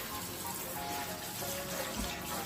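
A shower runs steadily over Rusty the dog during a bath, a close, even hiss of spraying water, slightly faint, with no talk over it.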